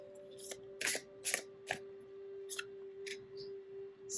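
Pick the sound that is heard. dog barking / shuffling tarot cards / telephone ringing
shuffling tarot cards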